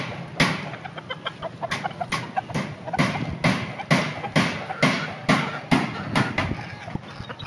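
Game farm chickens cluck in a steady run of sharp, repeated bursts, close and fairly loud, with a voice talking intermittently over them.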